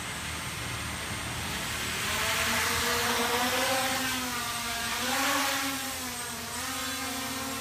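An Emax 250 FPV quadcopter takes off and hovers close by, its propellers whining in a steady high buzz that rises and dips slightly as the motors adjust, loud and continuous with no talking.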